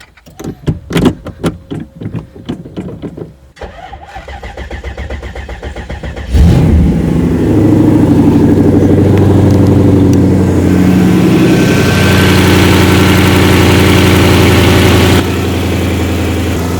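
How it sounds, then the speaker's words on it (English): Several clicks and a short whirring crank come first, then a V8 engine in a Mazda Miata catches with a roar and settles into a loud, steady idle. "let's try to start the car."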